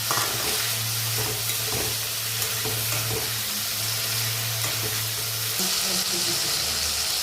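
Potato pieces go into a pan of frying spices and oil for a paneer curry, giving a steady, close sizzle with stirring scrapes; a low hum runs underneath, and the frying brightens near the end.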